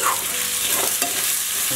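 Tomato gravy fries in a pan, giving a short burst of steady, close bubbling and sizzling with one scraping stir partway through.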